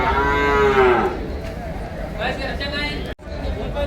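A buffalo gives a loud, close, drawn-out moo at the busy Ranebennur buffalo market in Haveri district, followed by the murmur of traders' voices and a brief sharp dropout near the end.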